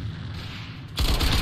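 A high-damage rifle fires in an A.V.A tournament match: a sudden loud, dense burst of gunfire breaks in after a steady bed of game noise and carries on to the end.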